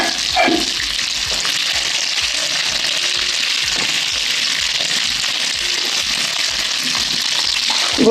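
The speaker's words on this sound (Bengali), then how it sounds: "বন্ধুরা আমার ডিমগুলো ভাজা হয়ে গেছে এবার আমি নামিয়ে নেব" Eggs frying in oil in a wok make a loud, dense, continuous crackling sizzle close by with faint rhythmic clatter underneath, no voices.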